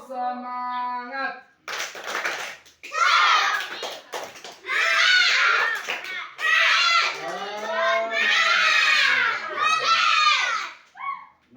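Children perform a rhythmic spirit clap (tepuk semangat) in an Islamic group guidance class, patterned claps mixed with loud chanting voices, preceded by a brief spoken cue.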